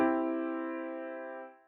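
A single sustained chord on Analog Lab's American old radio piano rings out, warm and slightly muffled like an old radio, fading gently before cutting off.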